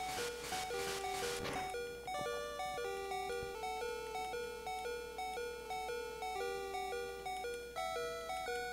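In the Pokemon Red video game, a Pokemon's cry opens with a brief harsh burst, then the chiptune low-health alarm beeps repeatedly in a steady two-tone pattern alongside the electronic battle music.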